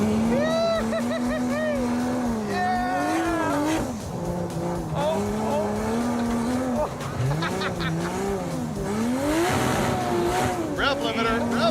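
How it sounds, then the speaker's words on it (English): A muscle car engine screams at high revs off-road and bounces repeatedly against the rev limiter, its loud, close, wavering tone rising and dropping in rapid surges, with tire noise mixed in. "Rev limiter."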